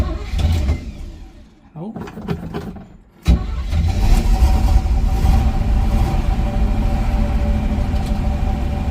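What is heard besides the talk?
1977 Camaro V8 engine starting and idling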